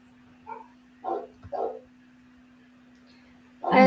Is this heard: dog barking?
yes